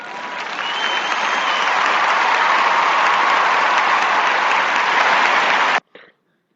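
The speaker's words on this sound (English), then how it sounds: "that is our fans applauding because of the birth of Mr. Ethan Matamon" Loud, dense applause from fans, swelling over the first second and then holding steady for several seconds before stopping abruptly, followed by a brief faint tail.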